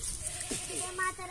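A goat awaiting Eid sacrifice bleats in a short, wavering cry from close by, with a second fainter bleat following against outdoor background noise.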